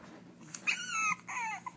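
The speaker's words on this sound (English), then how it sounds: "Where are those puppies?" Puppies whimper and whine in short, high, plaintive cries, several overlapping yelps close by in a quiet room.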